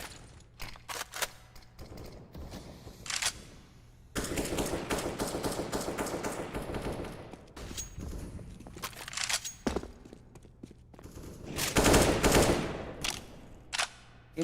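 Rapid bursts of gunfire from a first-person shooter match in an esports pro league game, including scoped rifle shots, with repeated volleys of automatic fire and single cracks at close range, alone with no talk.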